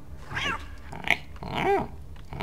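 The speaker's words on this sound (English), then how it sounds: "Oh, look at that. Kitty cat." A cat in the stealth game Thief: Deadly Shadows gives two drawn-out, whiny meows with a small click between them, heard alone and fairly close, with no talking.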